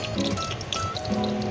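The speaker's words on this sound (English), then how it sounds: "we've boiled the kettle, and we're going to put the water in now on our" Boiled kettle water pours onto potatoes in a pan in a home kitchen, a steady close trickle and splash running through the short moment with no talking.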